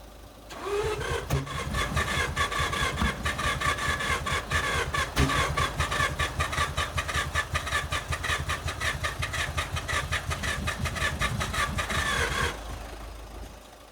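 An old car engine cranks with a rapid rhythmic chugging, then fires and runs roughly for several seconds before cutting off abruptly.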